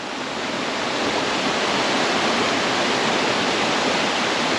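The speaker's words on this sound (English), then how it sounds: "there's another little point just to come out and enjoy a small little waterfall" A small waterfall beside a hiking trail pours in a constant, dense, loud roar of rushing water with no break, heard up close and alone.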